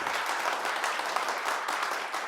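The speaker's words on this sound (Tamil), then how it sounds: "ஸோ வீடு ஒரு கைத்தட்டி வெல்கம் பண்ணலாம்" Studio audience on a Tamil TV comedy show breaks into steady, dense applause welcoming a guest, a continuous even wash of clapping with no voices over it.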